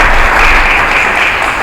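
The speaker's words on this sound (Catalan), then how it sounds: "un aplaudiment." Loud, dense audience applause at a comedy history show, a continuous wash of many hands clapping with no voices over it.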